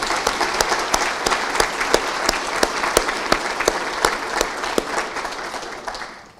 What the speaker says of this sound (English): let's just say a big round of applause to everyone who made this happen